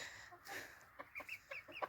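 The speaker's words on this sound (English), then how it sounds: "Skåne Blomhane are very, very big chickens." Skåne Blomhane chickens, a very large breed, cluck softly in a garden: a string of short, close clucks in an irregular rhythm after a brief rustle, fairly quiet with no talking.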